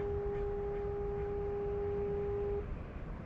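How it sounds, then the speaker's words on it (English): A single long, low foghorn blast near ocean dunes holds a steady tone for a few seconds, then cuts off, leaving a soft background rumble. "Yeah, it sounds like a foghorn."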